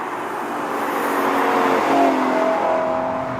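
A Lexus LC 500 with its V8 engine drives with a sustained, wailing engine note that climbs and shifts as it pulls, steady and fairly full over a broad road and wind roar, with no talk.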